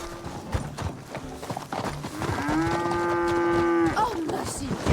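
A cow lows with a long, drawn-out moo in an open-world western video game set around Saint Denis, rising over a background of clip-clopping hooves and general game ambience.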